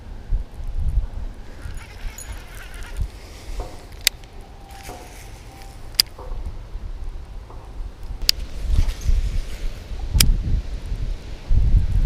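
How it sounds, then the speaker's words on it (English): Wind blowing across a lakeside bank while bass fishing, gusty rumbling buffets on the microphone that swell and fade, with a few sharp clicks and faint rustling. "That is so windy right now."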